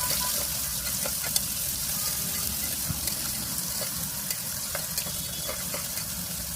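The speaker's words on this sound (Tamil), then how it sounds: "வெங்காயம் எண்ணெயில் நல்லா வதங்கட்டும்" Medium-sized onions sauté in oil for chicken fried rice, giving a continuous close frying hiss dotted with small pops and crackles.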